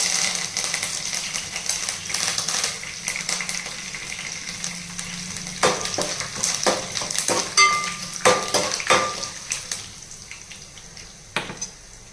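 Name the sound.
lentils and dried red chillies frying in a pan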